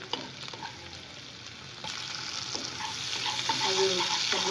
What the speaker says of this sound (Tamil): இது வந்து இப்படி ஃப்ரை ஆகட்டும்